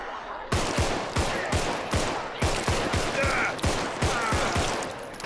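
Rapid gunfire in the zombie video game Contagion, a near, loud string of sharp shots at an uneven quick rhythm, roughly a dozen bursts across a few seconds.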